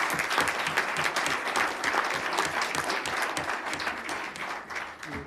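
Audience applause at a press freedom award ceremony honoring named women, dense and steady from start to finish, loud and close with no speech over it.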